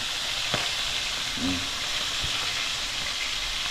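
Food fries in a hot pan with a steady, fairly soft sizzle and hiss, and a few light clinks and stirring knocks break through the constant crackle.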